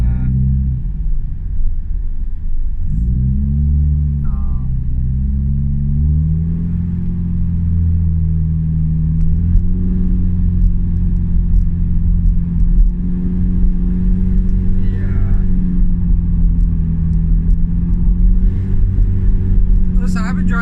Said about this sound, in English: I've been driving in this traffic.